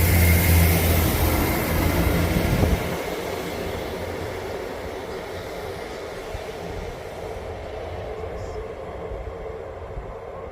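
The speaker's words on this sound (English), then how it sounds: "EMR Regional going to Liverpool Lime Street, leaving Chesterfield." An EMR Regional train pulls out of Chesterfield station on the Midland Main Line. A loud low rumble fades after a few seconds into a steadier hiss of the train moving away.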